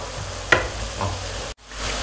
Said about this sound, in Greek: Ρίχνουμε και το σκόρδο.